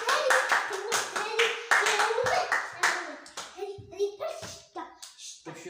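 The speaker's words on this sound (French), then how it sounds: "Applaudissez, oui." Schoolchildren in a classroom clap in quick rhythmic bursts while kids' voices and chatter overlap, the clapping loud at first and becoming more scattered toward the end.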